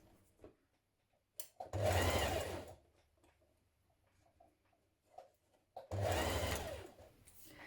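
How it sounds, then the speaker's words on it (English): Two short runs of a sewing machine stitching a gathered sleeve into a child's dress, each burst about a second long, loud and close, with quiet handling sounds in between. "Pin it the rest of the way around and stitch it in place."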